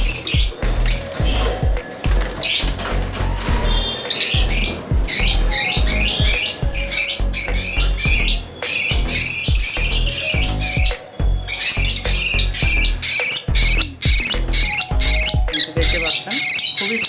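Lovebirds in a breeding colony squawk loudly and continuously in dense, rapid bursts close by, with wing flutters and cage rattles mixed in and someone talking intermittently underneath.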